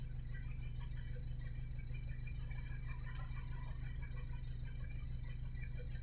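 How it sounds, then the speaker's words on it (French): A Peugeot 807 HDi diesel with power loss idles after a decarbonising treatment, giving a steady, close low rumble with a fine rattling clatter that never varies in level. "même là au niveau du moteur, ça tremble beaucoup moins que tout à l'heure"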